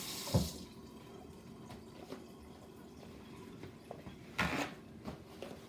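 A French press is rinsed under running water. A soft, steady flow trickles quietly in the background, with a few louder splashes and clunks as the glass is handled. No one speaks.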